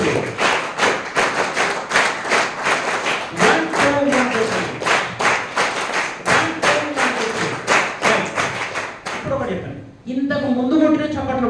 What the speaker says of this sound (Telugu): నా కోసం ఒకసారి క్లాప్స్ కొట్టండి